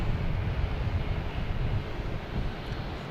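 Airliner engine starting up on the ramp at Boston Logan Airport, heard as a steady, loud broadband rumble and roar with wind noise, holding level throughout without pause.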